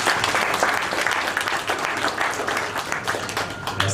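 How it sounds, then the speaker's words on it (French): Audience at a regional competition results ceremony applauding continuously, a steady patter of many hands clapping at moderate distance. "Applaudissez pour vous-même."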